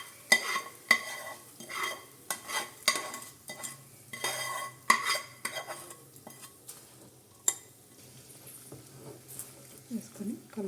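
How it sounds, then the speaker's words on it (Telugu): A spoon stirs Andhra-style curry leaf chutney with the fried tempering mixed in, producing a series of close, sharp scraping and clinking strokes in an irregular rhythm over a quiet kitchen background. "వేసుకొని కలిపేసుకోవాలి మొత్తం కూడా"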